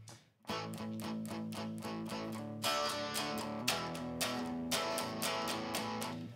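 Heavily distorted electric guitar power chords strum in a steady rhythm, each chord ringing thick and buzzy, with a brief pause before the pattern continues.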